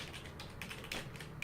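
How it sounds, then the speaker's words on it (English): Quiet, rapid clicking of fingers typing on a computer keyboard, keystrokes landing in an uneven run with a few sharper taps standing out. "I just start typing"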